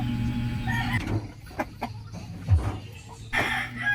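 Three-month-old chickens, a young rooster and a pullet, cluck in short, irregular bursts close by, with some rustling and a murmuring background.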